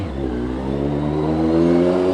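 CFMOTO 750SRS motorcycle with a red exhaust and breadbox delete, a close, loud engine rising steadily in pitch as it revs for about two seconds.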